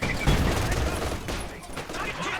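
Machine gun fire in the World War II strategy game Company of Heroes 2, a dense rattling fusillade of overlapping gunshots with a loud burst at the start, continuing over a background rumble.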